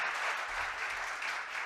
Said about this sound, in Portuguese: Jonatas Câmara, que está aqui na frente, a quem eu peço um aplauso em nome do Senhor Jesus.